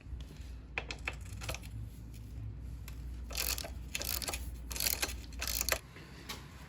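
A ratchet with a bendable socket fixture working on a KTM 500 EXC dirt bike, rapid close clicking in uneven bursts that grows busier toward the end, with a low background rumble.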